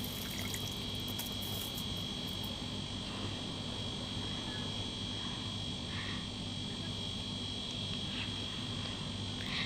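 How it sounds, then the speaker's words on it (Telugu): Water boils in a pot on a stove for bagara rice, a steady, dense bubbling hiss that continues evenly at a moderate, close level with no voices over it. "చూడండి, మంచిగా మరుగుతుంది"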